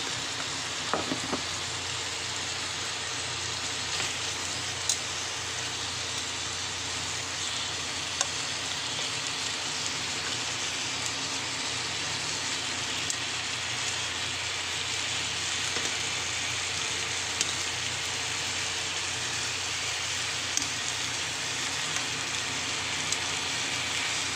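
Chicken sautés in a pan with a steady, even sizzle and crackle, close and continuous with faint occasional stirring, no voices.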